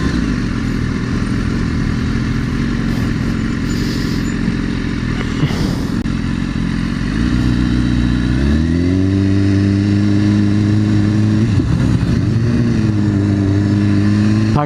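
A Ducati 848 motorcycle engine revs loudly and close by, holding a steady throaty idle before climbing into rising, sustained revs, with no talk over it.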